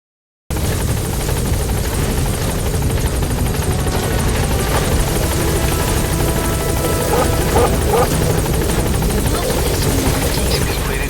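A video-game support helicopter's steady rotor thrum and engine drone fills the scene continuously at close range, holding a constant loud level throughout, in Metal Gear Solid V.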